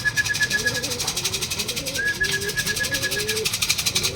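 Racing pigeons at a loft during a South Derby race in Naga, Camarines Sur: repeated soft throaty cooing close by, several rolling coos in a row, with a faint high tone and background noise.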